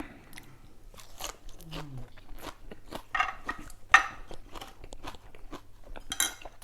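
Close, crisp crunching as snails are chewed, repeated bites with wet mouth sounds, irregular and up front with no talking.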